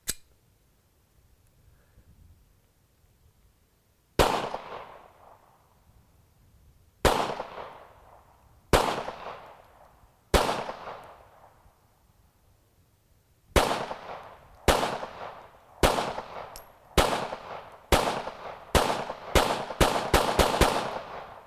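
Hudson H9 handgun fired at a range, sharp single shots spaced apart at first, then a quickening run of rapid shots toward the end, each with a short ringing decay.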